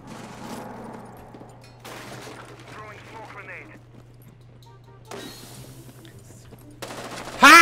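Bursts of gunfire from Rainbow Six Siege, rapid shots in short clusters separated by gaps, mixed with game sounds and people talking over a steady low hum.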